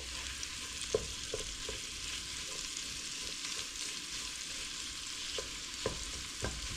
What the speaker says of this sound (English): we're just going to brown these up, get a little caramelization on the sausage